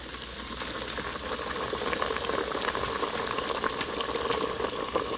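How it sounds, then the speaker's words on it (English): Two bream fillets frying in a hot pan give a steady, close bubbling sizzle with scattered spits and crackles, continuous throughout and with no talking. "I'll fry two at a time."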